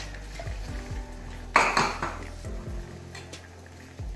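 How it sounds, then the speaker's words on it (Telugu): Gram flour being mixed into buttermilk in a bowl: soft, irregular spoon clinks with a louder clattering burst midway, close by. "ఉండలు లేకుండా మంచిగా ఒకసారి కలుపుకోవాలి."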